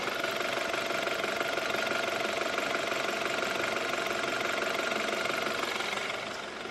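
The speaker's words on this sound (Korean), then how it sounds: "이 차량 이제 바로 엔진 소리부터 한번 살펴봐 드릴게요" A downsized four-cylinder BMW 5 Series engine idles steadily with an even mechanical hum and fine rhythmic ticking, close up and uninterrupted, then fades slightly at the end.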